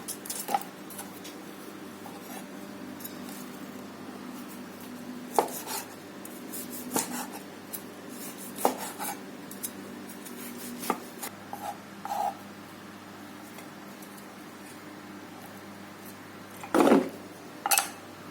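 Knife cutting air-fried Isan sausage on a board, with scattered soft scraping and occasional sharper chops and clicks, close and fairly quiet with no talking.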